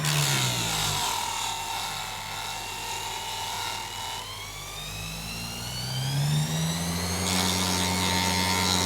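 An Abest mini grinder and polisher with a flexible shaft grinds rust off metal, giving a close, steady motor whine whose pitch sags and climbs as load changes, with a gritty abrasive rasp throughout and no talking.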